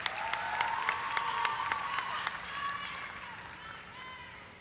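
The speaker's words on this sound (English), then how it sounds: "Let's give one more round of applause for our student athletes from Lakeview Centennial High School." Audience applause for student athletes at a Garland ISD high school signing day, honoring Lakeview Centennial High School, with sharp claps early that settle into a steady patter while a voice talks over it.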